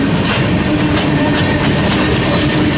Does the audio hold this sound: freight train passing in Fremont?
yes